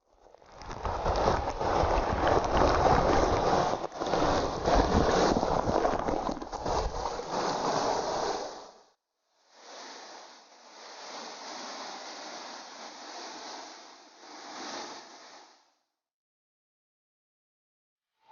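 Curug Bunar, a waterfall in Pager Ageng, Tasikmalaya, gives a steady loud broadband rush of falling water, then drops out briefly and returns softer and thinner before ending in silence.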